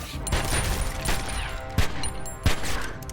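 A dense, continuous wash of assault rifle gunfire with a few sharper, louder shots standing out near the end, like a chaotic firefight.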